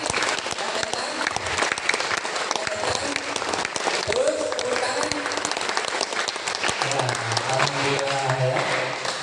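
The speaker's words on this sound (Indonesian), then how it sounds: "tepuk tangan sekali lagi, tepuk tangan yang kencang" Loud, sustained applause from an audience at an Indonesian talk on paying off debt, dense clapping filling the whole stretch, with a voice speaking over it near the end.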